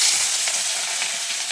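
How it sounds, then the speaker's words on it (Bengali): Fish frying in hot oil in a home kitchen, a steady close sizzle with crackling spatter throughout and no voices. "বন্ধুরা, এই মাছ ভাজতে গেলে প্রচণ্ড ফোটে, একটু খুব রিস্কি জিনিস"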